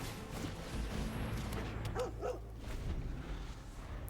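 Dog bark sound effect from a dog card played in the Magic video game, two quick yips standing out over a busy, steady game soundtrack, no voices.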